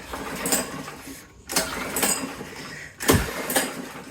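A go-kart engine being cranked several times, each pull giving a short rising mechanical burst followed by a lull, without catching into a steady run.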